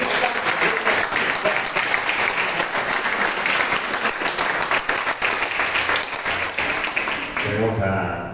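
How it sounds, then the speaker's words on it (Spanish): An audience at a jazz concert applauds loudly and continuously for about eight seconds, dense clapping that fades at the end as a voice begins speaking. "Entonces, otro aplauso,"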